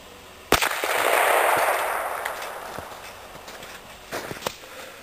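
.44 Magnum revolver firing a 405 grain bullet into stacked firewood from 10 yards outdoors: one sharp, loud report followed by a long decaying roar, then a few faint clicks.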